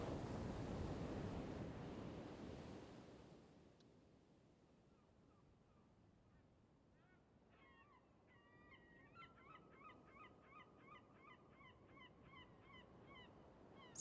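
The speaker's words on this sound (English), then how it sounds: "you can once again hear the seagulls calling to each other" Seagulls call to each other on a beach near a lighthouse. Surf washes loudly at first and then fades, and a run of faint, repeated gull cries rises over the quiet shore.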